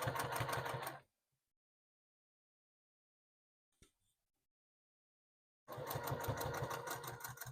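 A sewing machine backstitching an oven mitt runs in two loud, steady bursts, one short at the start and a longer one near the end, separated by silence and a single small click.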